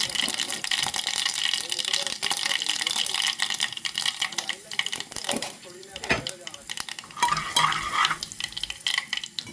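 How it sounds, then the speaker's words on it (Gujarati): Ivy gourd (tindora) is stirred into sizzling oil tempered with fenugreek, mustard seeds and asafoetida, giving a scraping, hissing frying sound with bursts of sizzle as a person talks. "હવે નાખવાનું છે બધો વઘાર કરેલા ટીંડોળા."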